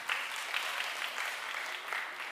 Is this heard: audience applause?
yes